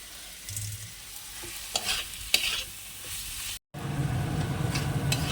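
Prawns are stir-fried (kosha) in a pan, a steady sizzle under occasional spatula scrapes and clinks, with a brief cut before the frying resumes louder and denser.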